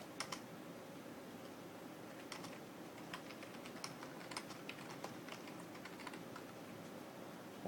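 Steady typing on a computer keyboard while writing a clinical note, a continuous run of light, quick key taps at close range in a quiet room.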